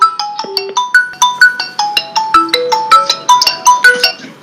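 Phone ringtone going off during a live religious debate broadcast, a loud, close melodic electronic chime repeating in quick rhythmic notes with nothing else heard.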